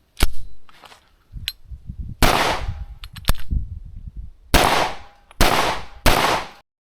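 Open-class competition pistol fitted with a small compensator and running an 8-pound recoil spring, firing a series of sharp, loud shots outdoors: two quick shots, a pause, then a few more, and a final three fairly evenly spaced blasts with a short ring-out.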